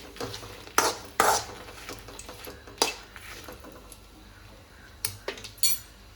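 Potato and pea curry ingredients, with coriander seeds and chana dal, fried and stirred in a pan, giving a quiet background sizzle broken by several sharp clinks and scrapes of a spoon against the pan.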